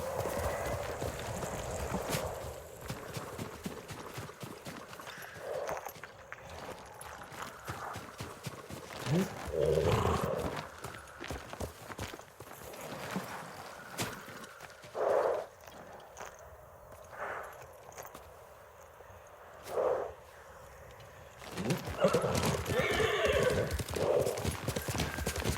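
Horse neighs and clip-clopping hooves in the video game Ghost of Tsushima, several whinnies and snorts over steady hoofbeats and background ambience, with occasional spoken lines in between.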